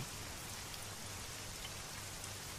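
Steady rain falls evenly and continuously at night, a soft, unbroken hiss of drops with no voices or other sounds over it.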